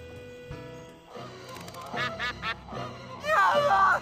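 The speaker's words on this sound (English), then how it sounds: "Come on out, duck." A duck in the video game Escape from Monkey Island lets out a run of loud, nasal quacks near the end, after quieter game sounds and voices.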